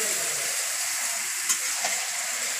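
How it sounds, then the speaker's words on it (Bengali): Spice-coated meat fries in a wok with a loud, dense, continuous sizzle and a couple of soft stirring knocks, close up and with no voices. "এখন সেই মশলা মাখানো মাংস কড়াইতে দিয়ে দিয়েছে"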